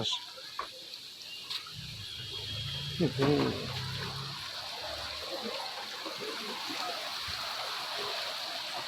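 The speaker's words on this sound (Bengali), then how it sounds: "ঝর্ণা।" A waterfall in the Ayodhya hills gives a steady, close rush of falling water that fills the whole clip, with a brief voice and a few small knocks partway through.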